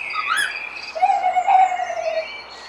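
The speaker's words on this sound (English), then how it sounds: "So Shakespeare's single bird is actually a duet between a pair of owls." Two owls call in a duet at dawn in rural countryside, a sharp rising call followed by a longer wavering hoot, fairly close and clear over a quiet background.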